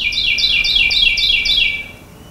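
Carolina wren trill calls: a run of five bright, rapid descending chirps repeated in steady rhythm, fairly close and clear against a quiet background, fading out at the end.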